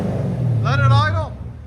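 A Chevy Camaro SS 6.2L V8 with a MagnaFlow exhaust idles with a steady, deep low rumble. A brief rising-and-falling tonal sound, like a voice, rides over it in the middle.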